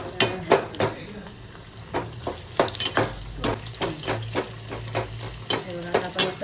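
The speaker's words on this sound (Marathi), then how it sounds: "कांदा आणि मिरची पहिले चांगला शिजवून द्यायचा आहे" Onion and green chili fry in oil while a spoon stirs and scrapes the pan in a steady run of clinks and scrapes over a low sizzle, with no talk.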